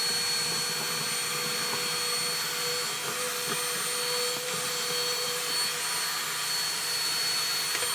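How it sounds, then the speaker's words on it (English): An Auto XS cordless wet and dry vacuum cleaner runs continuously up close, a steady loud whirring motor drone with a thin high whine and slight fluctuations as it sucks, no speech. "cordless wet and dry vacuum cleaner"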